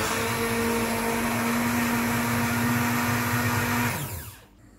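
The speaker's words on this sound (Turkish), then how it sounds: "Şimdi blenderdan çekeceğiz." A blender whirs steadily as it purees lentil soup made with bone broth, a loud continuous motor drone for about four seconds before spinning down and stopping.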